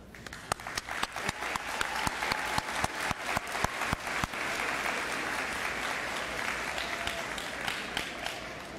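Audience applause at a 2022 Chickasha High School graduation ceremony, steady clapping from a large crowd that swells and holds for several seconds, heard from some distance.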